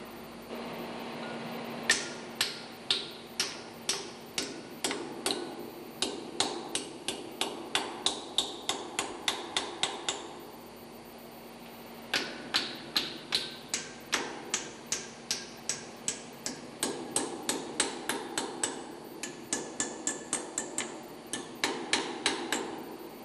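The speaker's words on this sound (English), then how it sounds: "Tighten the upper lock nut and secure both nuts with the locking disc." Chain lock nuts are tightened with a tool: rapid bursts of sharp metallic clicks like a ratchet, repeating in quick runs separated by short pauses, close and fairly quiet.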